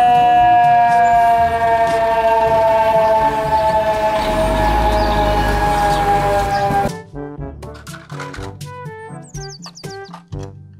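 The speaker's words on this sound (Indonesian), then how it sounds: "Mobil, truk, pemadam kebakaran." A fire truck siren wails in steady, loud tones for about seven seconds, then gives way to a cheerful children's music track.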